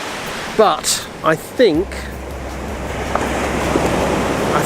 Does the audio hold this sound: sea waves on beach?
yes